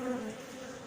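Honeybees at a queenless hive buzz loudly and close, a dense droning hum with a wavering pitch that carries on without a break.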